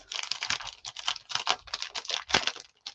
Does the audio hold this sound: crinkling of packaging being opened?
yes